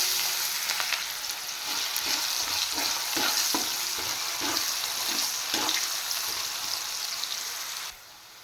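Chopped onion sizzles and fries in hot oil with whole dried red chillies, bay leaves and cumin seeds, a steady dense crackle with soft stirring scrapes, loud and close throughout, no voices, fading slightly at the very end.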